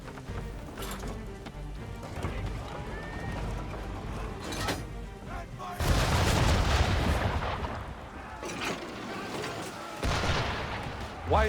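Cannon fire from an enemy ship at a small sailing boat in Assassin's Creed III, heavy blasts and a roaring surge near the middle, over steady wind and water noise, with distant voices.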